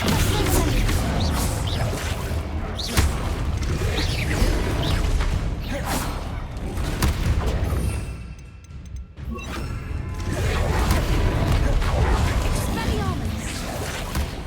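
A Descendo spell slam in Hogwarts Legacy, one of several loud impacts and whooshes amid continuous dense combat noise, with a brief lull in the middle before the fighting sounds swell again.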